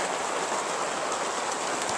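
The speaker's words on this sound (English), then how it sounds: "It's just dumping hail right now." Large hailstones pour down hard in a hailstorm, making a dense, steady, unbroken roar of impacts that stays loud and even throughout, with no voices.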